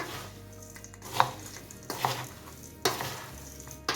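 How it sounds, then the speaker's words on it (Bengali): Flattened rice snack ingredients being mixed together in a pan, with a few sharp stirring scrapes and soft rustling over a faint background sizzle. "আবারও সমস্ত উপকরণ খুব ভালো করে মিশিয়ে নেব তাহলেই রেডি আমাদের চিড়ের চানাচুর বা চিড়ে ভাজা"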